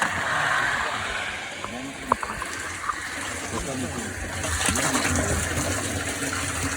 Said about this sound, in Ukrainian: А тепер знову включай насос